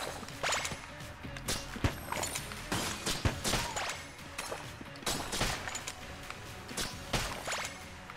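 Rapid, irregular bursts of gunfire in the roguelike shooter Enter the Gungeon, sharp repeated shots with mechanical clicks between them, set against a steady game backdrop.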